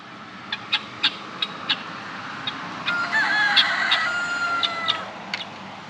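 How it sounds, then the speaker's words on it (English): Guinea fowl call repeatedly nearby outdoors, a series of sharp rhythmic shrieks followed by a louder, denser burst of cackling calls. "That's our guinea fowl, if you're wondering what's making that kind of noise."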